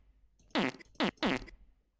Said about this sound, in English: We have to play this sound fart.